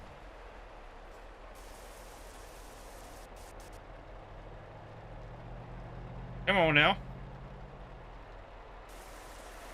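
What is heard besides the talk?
rain in video game Euro Truck Simulator 2, cutting out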